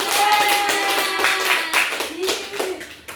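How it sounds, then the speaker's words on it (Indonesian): A classroom of children claps during a microteaching lesson on traditional culture. The clapping is loose and scattered, mixed with children's voices and chatter, and sounds close and fairly loud. "Oke, kita beri tepuk tangan."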